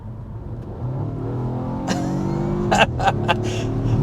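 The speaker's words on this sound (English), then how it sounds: "if you go past the little area that's labeled with a drop on the gauge cluster, that is where your engine will kick on" A 2023 Volvo S60 Recharge plug-in hybrid's gasoline engine starts and steadily builds a rising, revving mid-range drone over a low cabin rumble, with a few brief knocks near the end and no talk.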